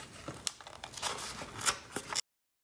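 Paper being cut into shapes with scissors, a short run of close crisp snips and rustling that stops abruptly.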